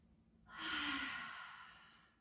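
One long, soft exhale rises and then fades during a seated yoga twist, close and clear in a quiet room with no talking.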